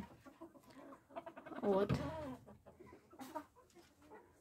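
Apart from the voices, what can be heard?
Ukrainian cuckoo chicken breed clucking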